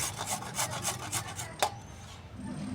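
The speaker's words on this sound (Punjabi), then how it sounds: "ਗਾਜਰਾਂ ਰਗੜ ਰਹੀਆਂ" Carrots being grated by hand for carrot halwa, a rough rhythmic rasping of repeated strokes up close, continuing steadily with a brief sharp click partway through.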